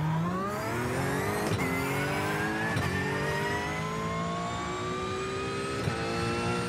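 A racing simulator game car engine revs steadily upward in pitch, loud and continuous, with brief sharp clicks as gears change.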